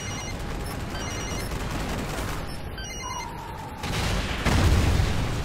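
Gunfire and explosions in the Call of Duty Ghosts campaign, a dense steady barrage of shots and rumbling booms under game effects, growing louder toward the end.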